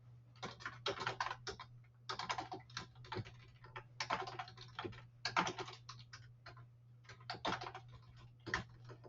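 Clustered bursts of rapid key presses on a computer keyboard while entering Visual Basic code, close and clear, with short pauses between runs and a steady low hum underneath.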